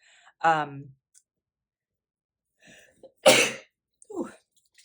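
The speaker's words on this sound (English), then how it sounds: "I have a sneeze coming, just as a warning." A person sneezes once loudly, a forceful burst after a short voiced intake, followed by a brief sniff or throat sound.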